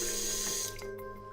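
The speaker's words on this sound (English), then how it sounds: "We rinse the handpiece under cold running water to remove any external debris" Cold tap water runs steadily over a dental handpiece at a sink, and then the flow shifts to a lighter spatter with small splashes as the handpiece moves under the stream.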